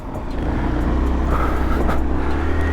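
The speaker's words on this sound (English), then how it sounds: "Wait for this car so we don't get knocked down." A car passes close by on an urban road, a steady loud engine and tyre rumble that holds throughout without fading, heard from a small motor scooter waiting at the roadside.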